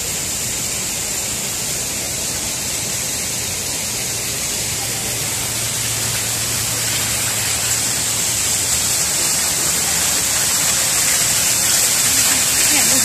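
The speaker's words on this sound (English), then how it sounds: "We get into the waterfall, that's the part everybody loves." Steady broadband rushing of a waterfall at Mitchell Domes, a dense even roar that holds for the whole stretch and swells slightly toward the end, with no clear speech over it.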